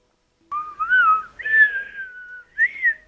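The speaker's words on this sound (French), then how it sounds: "Le sifflage." A person whistles a short, wavering melody of three phrases with sliding pitches, loud and close after a brief silence, with no other sound around it.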